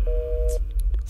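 A single steady electronic telephone busy tone sounds for about half a second after a call is hung up, then gives way to faint room noise and a few soft clicks.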